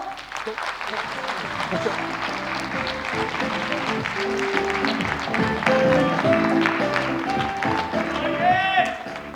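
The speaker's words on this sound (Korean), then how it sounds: "여러분 큰 박수로 환영해 주세요." Audience applause greeting footballer Kim Ho-nam as he is welcomed onto the stage at a lecture event, a steady wash of clapping across the whole stretch with music and faint voices mixed underneath.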